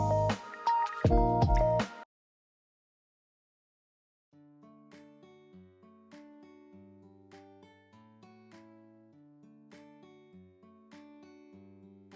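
Raw oxtail washed in water makes about two seconds of wet squelching and splashing up close, then silence, followed by soft melodic music.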